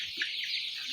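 Brown chickens in a crowded poultry house make a faint, continuous murmur of clucks and chirps, a dense, distant-sounding wash lasting only a moment.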